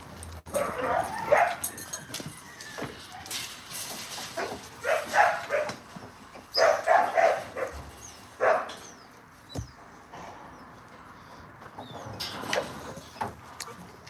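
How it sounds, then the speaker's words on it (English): A dog barks in sharp bursts mixed with whimpers and yips, fairly close, with quieter pauses between the outbursts. "That's a fine fucking animal right there, boy. Good animal. Good dog."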